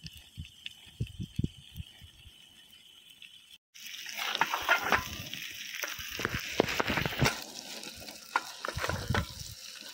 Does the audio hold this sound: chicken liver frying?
yes